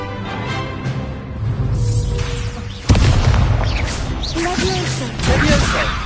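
In the Hogwarts Legacy video game, an Incendio fire spell is cast and bursts into a loud whooshing boom, followed by rumbling spell effects.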